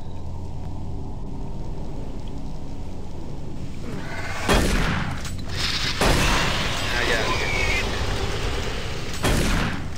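Gunfire in Doom 3 BFG Edition while shooting an enemy through a vent in Alpha Labs: a few loud, sharp blasts spaced several seconds apart over a low mechanical rumble and ambient hum.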